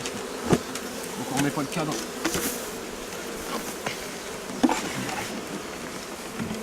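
Honeybees buzz around an open beehive in a wood, a steady close hum with scattered knocks as frames are handled, and someone speaks briefly.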